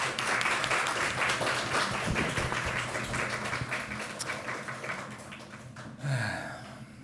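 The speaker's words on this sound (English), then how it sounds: "Thank you, and applause." Applause from a Nordic Circular Hotspot conference audience closing a panel talk on materials and sustainability: a sustained, moderately distant patter of clapping hands, fading slightly before a short swell near the end.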